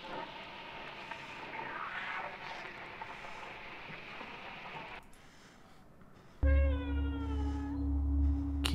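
A cat meows in the horror video game Conarium, a repeated, strained meow rising over a murky ambient drone before a sudden loud tonal hum takes over near the end.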